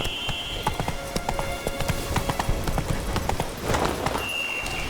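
Rhythmic clip-clop of horse hooves from The Witcher 3 video game, a steady galloping beat at close range with game ambience and a brief tone behind it.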